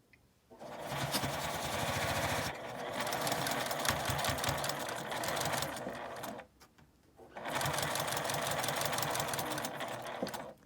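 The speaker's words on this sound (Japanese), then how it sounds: "ここまで縫います。" A sewing machine stitches a clear-window key case in two long whirring runs of rapid needle chatter, separated by a short pause, close and fairly quiet.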